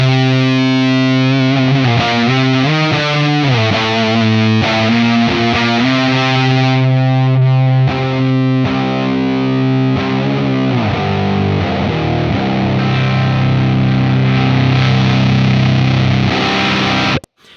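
A heavily distorted electric guitar plays through a Zander Circuitry distortion pedal with its tone control turned toward a darker setting, loud, thick, sustained chords and notes that stop abruptly at the end.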